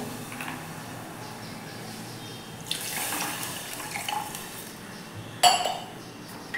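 Water runs from a tap or is poured into a cooking pan on a gas stove, a steady faint splash with a brief louder swell and a sharp metallic clink near the end.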